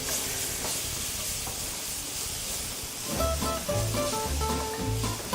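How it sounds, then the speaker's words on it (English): Onion frying in a pan gives a continuous, close sizzle. Partway through, rhythmic background music comes in over the frying. "So the onion is supposed to cook to your golden brown"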